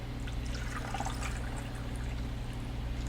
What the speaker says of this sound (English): I want to pour first the sweet tea.